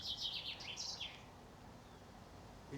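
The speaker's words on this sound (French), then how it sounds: "Les oiseaux chantent." Birds sing outdoors after a storm, with a few clear high chirping phrases near the start, then quiet background with a faint call at the end.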